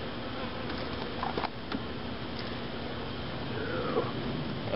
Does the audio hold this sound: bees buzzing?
yes